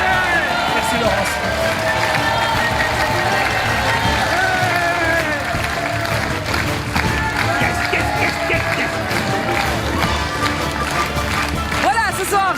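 A studio audience on the French TV game show Money Drop breaks into loud, sustained applause and cheering, a dense wash of clapping that carries through to the end, with a host's voice talking over it.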